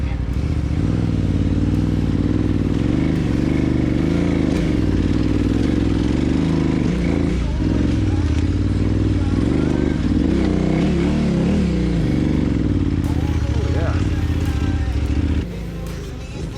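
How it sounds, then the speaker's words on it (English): A KTM 990 Adventure, a heavy 525-pound V-twin dirt bike, ridden along a trail in British Columbia, its engine droning loudly and steadily with revs rising and falling, close throughout. "For anyone that doesn't know what a KTM 990 Adventure is, it's a 525 pound V-twin dirt bike"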